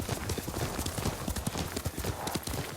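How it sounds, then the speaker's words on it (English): A horse's hooves clip-clop steadily in the video game Ghost of Tsushima, a rapid rhythmic trotting beat over a constant layer of ambient wind and noise. "Yuriko's horse."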